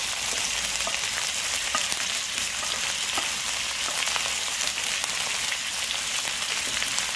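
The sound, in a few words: sautéing capsicum, onion and carrots in a pan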